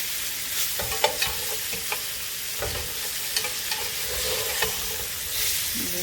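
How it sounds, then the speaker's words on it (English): Beef tips brown in a hot pan on a stovetop, with a steady loud sizzle broken by scraping and clacking as a utensil stirs and turns the meat. No one speaks. "I'm going to continue to brown this up"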